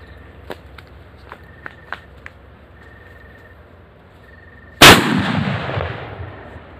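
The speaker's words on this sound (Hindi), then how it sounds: "देखते हैं ये सूतली बम हमारे पास कितना बड़ा धमाका करता है" A sutli bomb firecracker, a jute-string-wrapped cracker, bursts in one sharp, loud blast partway through, its roar decaying over a couple of seconds, after a few faint ticks and clicks in an otherwise quiet outdoor scene.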